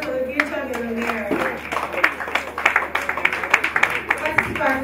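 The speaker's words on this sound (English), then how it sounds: "Please, a round of applause for the future millionaire." An audience at a hackathon event claps, a scattered patter of hands that swells into steady applause, with a voice talking over it near the start.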